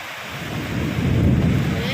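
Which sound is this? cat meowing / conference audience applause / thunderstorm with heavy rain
thunderstorm with heavy rain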